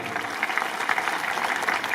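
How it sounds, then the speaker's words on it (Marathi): A crowd at a Hindu rally held in support of Hindus in Bangladesh claps loudly and steadily, a dense, even burst of applause with no pauses. "महाराजांसाठी एकदा जोरदार टाळी वाजवा."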